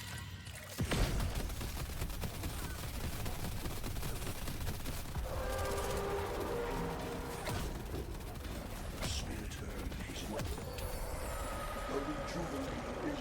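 Gunfire-like bursts and dense combat noise from the Deadlock video game turret, a loud continuous clatter of rapid shots and impacts lasting throughout, with layered game effects and voices mixed in.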